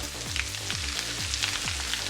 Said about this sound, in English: My potatoes are just dissolving in the oil. They're not frying up.